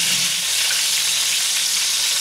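Scad fish frying in shallow oil in a pan gives a loud, continuous hissing sizzle throughout, with no voices over it.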